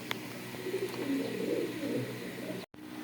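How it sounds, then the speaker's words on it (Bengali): Domestic pigeons, local and Pakistani breeds kept at a house, coo softly in low throaty repeated phrases, fairly faint and steady, with a few light clicks and a brief dropout near the end. "অনেক সুন্দর কবুতর।"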